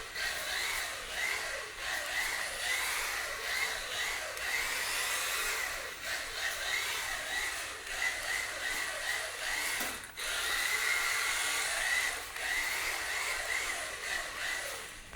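A Kamtom Km3299 1:32 mini RC drift car on rubber wheels runs at its lowest throttle, giving a thin, wavering electric motor whine that rises and falls in short surges, close by and steady.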